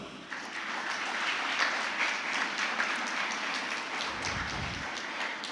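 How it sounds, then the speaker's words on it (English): An audience at a Model United Nations valedictory function applauds delegates, a steady, moderately loud wash of clapping throughout with a brief low thump near the end. "please rise for a round of applause"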